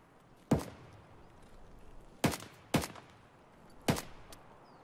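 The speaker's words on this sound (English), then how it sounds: "Where are you shooting at?" Gunfire in Escape from Tarkov: four sharp, loud shots ring out with irregular spacing, two close together near the middle, each trailing a short echo over a quiet background.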